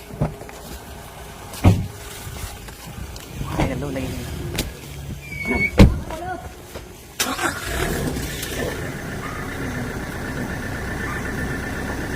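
A Toyota Fortuner SUV cranks and fires up, with sharp thumps and clicks early on, then settles into a steady close idle and rolling engine drone, while people talk nearby.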